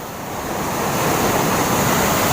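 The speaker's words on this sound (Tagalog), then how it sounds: "uy malaki alon" Large ocean waves surge and roar as a broad, building wash of surf, loud and continuous with some wind.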